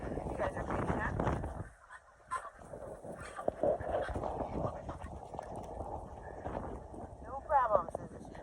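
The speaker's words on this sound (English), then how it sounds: "Oh, just some ducks." Ducks quack and honk outdoors in a blizzard, mixed with wind and the sound of movement, while a person talks nearby.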